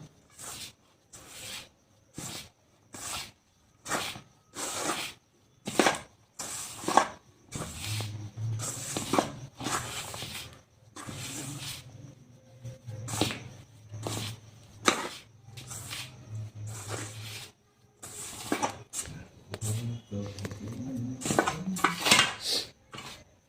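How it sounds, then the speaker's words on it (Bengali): Paratha dough is worked together with white oil in a bowl by hand for cauliflower parathas. Close, rhythmic rubbing and scraping strokes repeat about once a second, with short quiet gaps between them. "সাদা তেল। এবার এটাকে ভালো করে মাখিয়ে নেব।"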